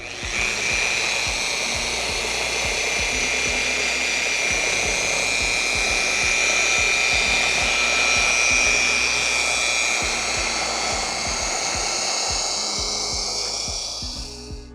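A polishing machine whirs steadily against a cloudy car headlight, a loud, continuous close buzz with rubbing friction underneath and no talk.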